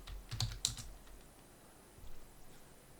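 A computer keyboard is typed on in a few faint, quick keystrokes close by, a short burst and then a single tap after a pause.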